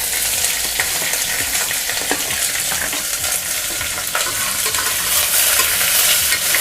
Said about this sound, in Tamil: இப்போ வெங்காயம் கொஞ்சம் வதங்கட்டும்.